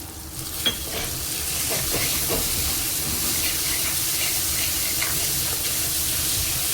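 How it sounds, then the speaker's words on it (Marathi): Ground masala paste for a spicy dried Bombay duck chutney sautéing in a pan, a loud steady hissing sizzle with a few stirring scrapes early on, close, no talk. "वाटणालाही छान परतवून घ्यायचंय"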